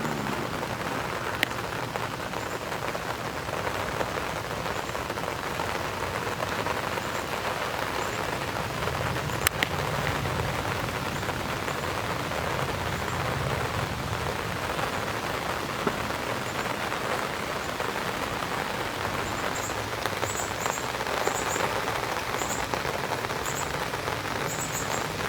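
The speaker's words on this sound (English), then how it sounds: "We got some thunder and we got some lightning" Heavy rain pours steadily onto surfaces during a thunderstorm, a dense, loud, unbroken hiss of drops with no distinct thunderclap standing out.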